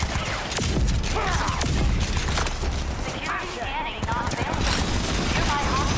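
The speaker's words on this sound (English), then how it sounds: "Why are you shooting at me, man?" Enemy gunfire in the Rage 2 video game crackles in rapid bursts and clattering volleys, dense and loud throughout, mixed with mechanical clanks and a person talking over it.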